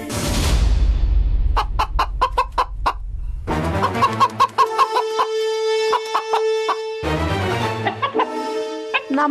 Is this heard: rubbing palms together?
no